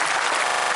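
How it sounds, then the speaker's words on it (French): A large audience at a French amateur radio congress applauds the invited guests, a dense, steady wash of clapping filling the room. "Je vous demande tous de les applaudir,"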